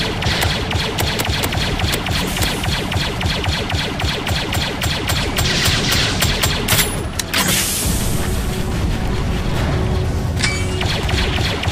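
Sustained rapid blaster fire against gunships in a Star Wars clone-wars game, dense and loud throughout, with repeated bursts and booms layered over a constant mechanical roar.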